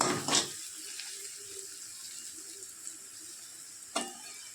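Onions with a little turmeric fry toward crisp birista for homemade biryani: a faint, steady sizzle with a couple of brief sharper crackles near the start and end. No voices.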